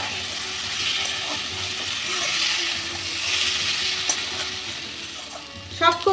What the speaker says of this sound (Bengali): এবার খুব ভালো করে কষে নেব। এর সাথেই দিয়ে দিচ্ছি এই পেঁয়াজ